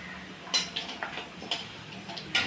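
Okra (ladies finger) goes into a pan already holding tempered spices and is sautéed for a curry, giving quiet, scattered clinks and taps of a utensil against the pan, with no talking.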